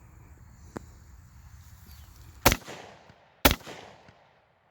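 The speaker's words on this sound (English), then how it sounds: "I'm going to hit it with a couple more from the M183 and a couple more from the green tip of the 62 grains with the steel core penetrators" Two sharp, loud 5.56 rifle shots, M193 rounds, strike ceramic body armor about a second apart. Each crack is followed by a short decay, and a faint click sounds earlier.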